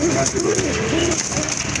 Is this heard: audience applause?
no